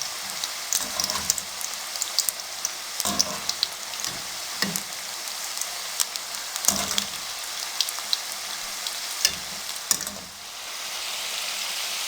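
Masala kadhi pakoras sizzle while frying in hot oil: a steady, dense crackling hiss with scattered sharper pops, close and continuous, with no one speaking.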